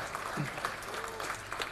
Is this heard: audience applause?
yes